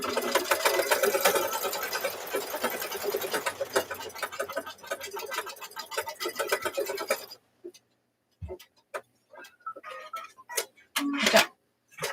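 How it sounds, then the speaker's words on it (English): A machine stitches transfers in a fast, dense mechanical ticking and whirring for about seven seconds, then stops abruptly, leaving scattered clicks and short sounds in near quiet. "now, like, what is it stitching? What is stitching?"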